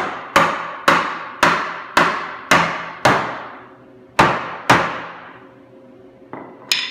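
Hammer blows on a wooden workbench base as its joints are knocked together, nine sharp, loud strikes in an irregular rhythm, each ringing briefly before the next, with no talk.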